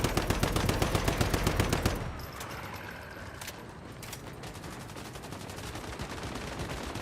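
Gunfire in the video game Once Human: a rapid, loud automatic burst of evenly spaced shots for about two seconds, then quieter scattered reports and clatter over a steady background rumble.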